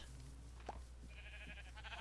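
A single faint, short sheep bleat from Minecraft sheep on a quiet farm, heard once against low background hum.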